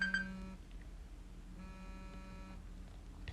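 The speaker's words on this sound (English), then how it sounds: "so like that's my alarm" An alarm beeps in two bursts of rapid, steady electronic tones, each about a second long and separated by a short pause, over a low room hum with no one speaking.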